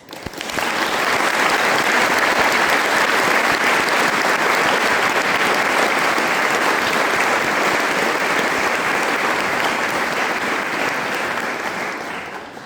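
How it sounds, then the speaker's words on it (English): A large crowd at a university graduation ceremony claps in sustained, loud applause that rises quickly, holds steady for several seconds, then begins to taper off. "give yourself and each other a really large round of applause"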